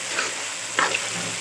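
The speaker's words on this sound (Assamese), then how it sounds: "এয়া মাংস সিজিছে।" Duck meat frying in a pan for an Assamese duck and potato dish: steady loud sizzle with a brief sharper crackle burst partway through, no talking.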